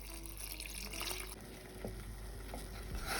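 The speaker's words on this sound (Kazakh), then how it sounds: "Енді 500 мг су құямыз." Water, about 500 ml, poured into a pot holding a lemon for dandelion jam, a soft continuous splashing stream with small clinks, fairly quiet and with no talking.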